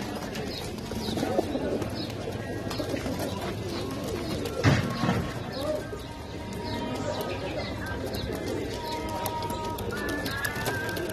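Pigeons and doves coo and chirp steadily at a busy bird market in New Baghdad, under a bustling background of people talking and a short thump partway through.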